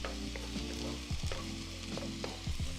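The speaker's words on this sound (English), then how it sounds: "I'll start cracking my eggs right here in the inside. And now what we'll do is we'll just scramble right here." Eggs cracked into a hot frying pan for shrimp fried rice sizzle loudly as they are scrambled, with a steady frying hiss and a few scraping stirs, no talking.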